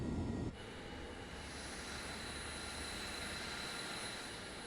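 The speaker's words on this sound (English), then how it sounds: "Now, once these engines are on, we can turn off the APU." Twin jet engines of an F-22 Raptor spooling up in the Microsoft Flight Simulator 2024 game, a steady broadband roar with a thin high whine that holds constant after a brief louder rumble at the start, no talking.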